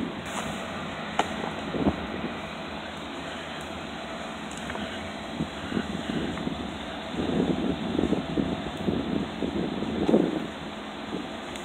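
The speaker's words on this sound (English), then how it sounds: "There was the wind." Wind gusts across an open disc golf course at Rutgers, a steady roaring rush with louder buffets toward the end, buffeting the microphone.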